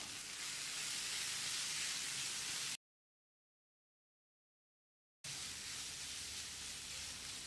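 Spice powders and garam masala fry in a pan for bread masala with a steady, bright sizzling hiss that cuts out to silence for a couple of seconds midway before resuming.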